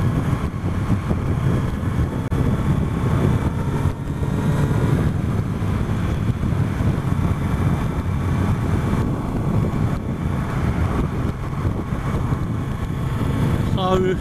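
Kawasaki Z900RS motorcycle cruising at 50 mph in fourth gear, a steady engine drone mixed with heavy wind rush for the whole stretch, heard from the rider's position.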